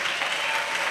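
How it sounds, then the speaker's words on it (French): A church congregation in a hall applauds in ovation to Jesus, a brief, dense burst of many clapping hands, even and sustained throughout. "Acclamation à Jésus-Christ. Ovation to Jesus."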